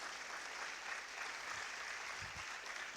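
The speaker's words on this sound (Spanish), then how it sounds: "Un aplauso, hombre, algo." A crowd at a book fair closing ceremony claps in a steady, even patter of applause that sounds distant and fairly quiet, with no voices over it.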